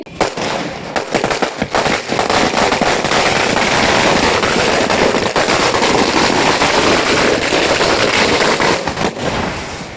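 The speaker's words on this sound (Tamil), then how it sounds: "மண்டபத்துக்கு முன்னாடி டேர்னிங்லே பார்த்தீங்கன்னாக்கா ஒரு பட்டாசு வேற வச்சுட்டாங்க" Firecrackers set off in front of a wedding hall during an ear-piercing ceremony, a dense, continuous crackle of rapid pops lasting the whole stretch, loud and close with no talking.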